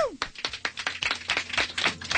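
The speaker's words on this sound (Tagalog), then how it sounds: "palakpak naman tayo" A studio audience claps at a Filipino variety show, a quick run of sharp, uneven claps with some cheering and a voice over the top.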